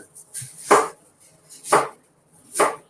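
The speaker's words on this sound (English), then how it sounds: "That sound you're hearing is me chopping up some" Vegetables chopped with a hatchet, three sharp, loud chopping impacts spaced about a second apart, each with a bright crack, with no talking.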